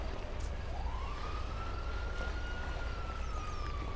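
A police siren in the GTA 5 video game wails in a long rising sweep and holds a steady high tone, loud and continuous over a dense background rumble.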